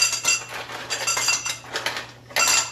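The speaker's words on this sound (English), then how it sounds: "So, I'm going to put a bunch of ice cubes in here." Ice cubes are dropped into a professional mixing glass while a chrysanthemum cocktail is being made, producing a quick series of close, bright clinks and clatters with a short pause before a final burst.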